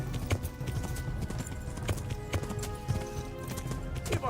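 A horse gallops with rapid, rhythmic clip-clop hoofbeats in the medieval video game Kingdom Come: Deliverance, close and fairly loud over faint background noise.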